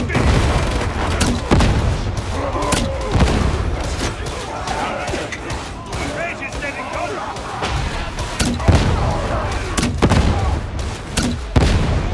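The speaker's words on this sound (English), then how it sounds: "Grenade!" Warhammer 40K Darktide battle: a grenade blast booms within dense, continuous gunfire and impact thuds, loud and chaotic, with voices shouting over the combat.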